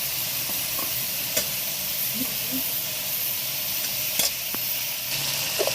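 Ginger paste hits potatoes frying in a pan, giving a steady close sizzle and hiss with a few light clinks of stirring.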